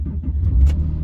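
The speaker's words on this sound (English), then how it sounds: "Car fires up very nicely" A black Porsche Carrera Tiptronic S automatic coupe engine fires up with a short low rumble and a brief swell as it catches, loud and close, lasting about a second.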